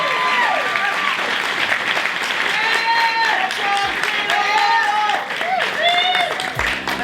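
An event audience applauds honoree Sheila Moody Bentley with loud, continuous clapping throughout, and scattered voices and calls come through over the applause.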